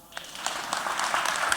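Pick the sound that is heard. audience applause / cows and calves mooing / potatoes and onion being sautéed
audience applause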